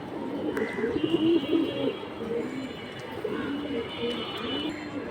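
An Afshan pigeon cooing among other caged pigeons at a market, repeated low throaty coos close by with faint chirps in the background, while someone talks over it.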